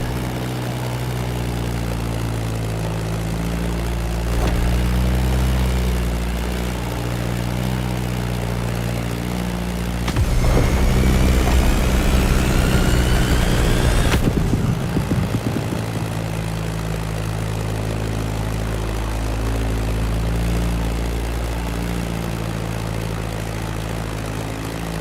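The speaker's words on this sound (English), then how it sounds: "That Beechcraft Stagger Wing is truly a beautiful piece, isn't it? And a great choice for that flight." A Beechcraft Staggerwing biplane's radial engine drones steadily throughout in the racing game The Crew Motorfest, close and loud, swelling to a harsher roaring burst midway before settling back to an even hum.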